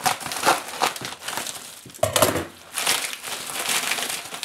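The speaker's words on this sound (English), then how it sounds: "let's take the scissors here and cut open the pack." Scissors cut open a FedEx shipping pack lined with integrated bubble wrap, giving close, irregular crinkling and crunching of plastic in uneven bursts with a sharper snip partway through, and no voices.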